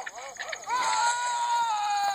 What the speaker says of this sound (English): you scream for some reason every time you put on a transformation mask